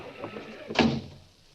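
A door swings open with a single solid thunk to let people into a brownstone in a radio drama, brief and close, following a soft rustle with faint speech around it.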